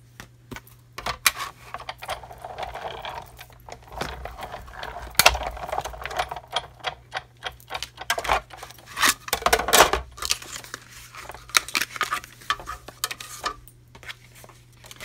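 A Big Shot die cutting machine with magnetic platform and cutting pad crunching a basic black stitch circle, a run of sharp irregular clicks, clacks and creaks from the crank and plates, close and alone over a low steady hum.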